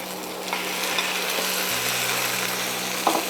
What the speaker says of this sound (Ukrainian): Обсмажили буквально 30 секунд, додаємо ребра